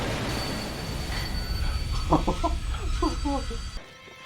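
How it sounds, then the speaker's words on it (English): A fast-moving train rumbles with squealing wheels in a Doctor Who episode. Voices talk over the loud rolling clatter before it cuts off abruptly near the end. "train's going pretty fast, right?"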